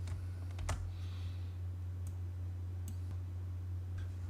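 A few scattered computer keyboard key presses during AutoCAD work, sparse faint clicks spread across several seconds over a constant low hum, with no talking.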